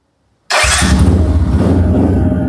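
A Bajaj Rouser LS135 motorcycle engine starts abruptly after a brief silence and settles straight into a loud, close, steady idle rumble.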